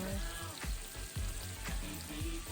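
Salmon pan-searing in butter gives a quiet, steady sizzle and crackle, with soft rhythmic scraping or stirring pulses repeating about every half second beneath it.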